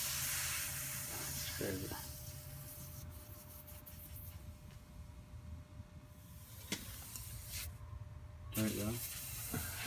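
Refrigerant outgassing from the oil of a compressor that has been open for a while makes a faint, steady hiss with a few sharper spurts, under people talking nearby.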